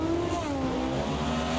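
Competition eliminator drag race cars at Sonoma roar down the track, a loud sustained engine drone whose pitch slides and shifts as the cars pull away, with no talk over it.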